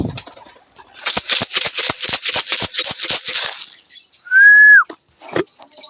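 Pigeons flock close by, a rapid series of wing flaps and clatters followed by a loud, clear whistled call and a few softer bird sounds, with no talking.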